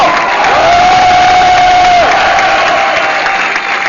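Audience at a 2012 Dieudonné comedy show, Le Bal des Quenelles, applauding a performer called Joe Le Corbeau: loud, dense, steady clapping with crowd cheering throughout and a long sustained whistle rising above it early on.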